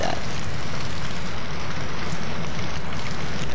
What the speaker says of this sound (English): the rain is loud and annoying